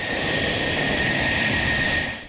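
An F-16 fighter jet passes with a steady, loud roaring whoosh that stays constant for the whole moment, with no voices.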